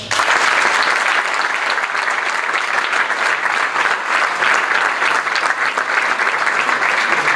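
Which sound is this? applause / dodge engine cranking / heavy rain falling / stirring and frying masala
applause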